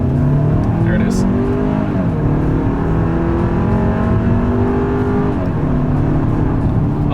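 A 2026 Hyundai Santa Fe SUV accelerates from a rolling start, its engine drone climbing steadily in pitch, briefly dipping around a gear change and then rising again, loud and continuous throughout.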